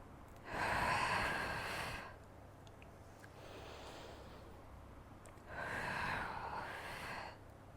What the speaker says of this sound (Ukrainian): Вдих. І повний видих.